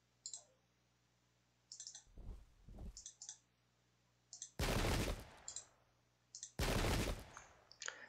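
Musket volleys in the Pike and Shot video game, a Spanish versus Jacobites multiplayer battle: two loud, dense bursts of massed fire, each about a second long, amid scattered small clicks and quieter crackling shots.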